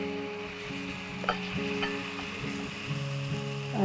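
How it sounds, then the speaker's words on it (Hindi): Cooked potato curry is stirred and scooped from a pan with a spoon, giving soft scraping and gentle sizzling close up under a steady background hum. "अब हम अपने आलूओं को डिश आउट करते हैं।"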